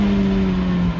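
A Ferrari F430 with a 490-horsepower engine hums at a steady, loud, mid-pitched drone while driven, its pitch dipping slightly, then rising near the end.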